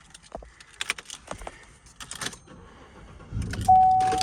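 A used truck is started up close by: keys jangle and a few clicks and knocks come first, then the engine cranks and catches into a loud, steady idle for the last second.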